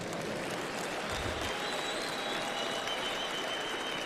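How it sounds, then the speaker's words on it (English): A crowd at a gathering in Zimbabwe claps hands for Jesus, a dense steady applause that holds evenly for about four seconds with no clear voices on top. "Clap hands for Jesus."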